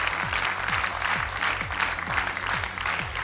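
A television gala audience applauds a singer with sustained, dense clapping that runs steadily throughout, over a rhythmic musical backing with repeating low tones.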